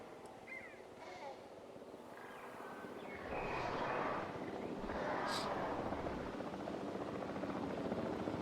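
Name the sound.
helicopter flying in the video game Jurassic World Evolution 3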